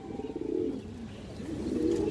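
Bindumoni pigeons with black tails coo continuously in low, rolling tones, a steady close murmur with no talking.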